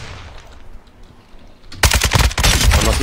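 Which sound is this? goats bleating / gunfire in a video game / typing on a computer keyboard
gunfire in a video game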